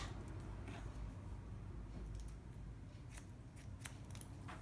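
Scissors snip through hair during a bob haircut, a close, continuous run of fine cutting sounds over a low room hum, with a few sharper snips toward the end.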